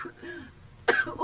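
A woman gives a short, raspy cough and clears her throat, up close and abrupt, with speech-like voicing before and after it.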